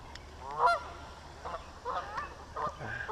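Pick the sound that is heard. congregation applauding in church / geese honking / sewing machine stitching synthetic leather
geese honking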